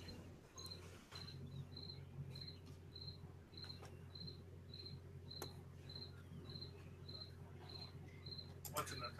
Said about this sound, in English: I still hear a cricket.